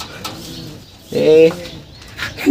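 Pigeons coo close by in a breeding loft, a low throaty burst of cooing rising in the middle, with softer rustles and faint movement around it.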